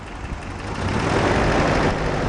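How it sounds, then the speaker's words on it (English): A Toyota 4Runner engine idles roughly with a shaking misfire, giving a steady, close, loud rumble that swells slightly partway through, with no talking. "So I think you guys can clearly see that the engine is shaking here."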